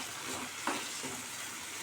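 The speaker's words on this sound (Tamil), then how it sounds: "தேவையான அளவு உப்பு போட்டு நல்லா வதக்கி விட்டுக்கலாம்." Chopped tomatoes and salt sauté in a pan for a home-style Tamil mushroom gravy, giving a faint, steady sizzle with a brief clatter of stirring partway through.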